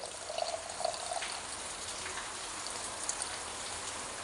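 Tamarind water strained and poured into a pot of cut vegetables for Kerala sambar, a steady close splashing trickle of liquid with a few brighter drips, heard alone.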